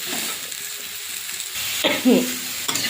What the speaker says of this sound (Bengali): এবার দিয়ে সবজিটা ভালো করে কষে নেব